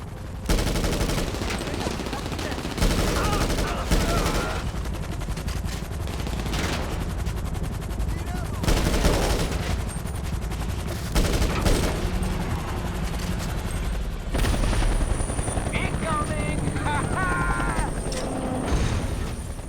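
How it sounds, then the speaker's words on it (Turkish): Enemy backup fires guns in GTA Online: repeated bursts of automatic gunfire and mechanical clatter come in waves throughout, with some faint background game sounds. "Bu arada güzel sıkıyorlar."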